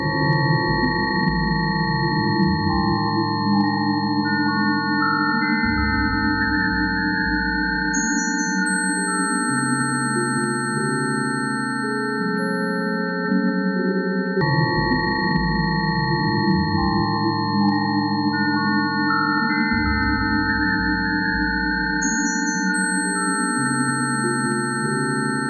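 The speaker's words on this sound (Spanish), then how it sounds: "Escuche cómo suenan las telarañas." Synthesized music generated by MIT researchers from spider web vibrations: layered sustained tones with shifting pitches and thin high notes, continuous and eerie, with no speech.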